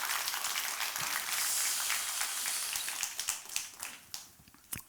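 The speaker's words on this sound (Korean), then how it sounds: "박수 한번 해드려야 겠습니까?" A church congregation breaks into applause during a sermon, a brief burst of clapping that thins into scattered individual claps and fades out within a few seconds.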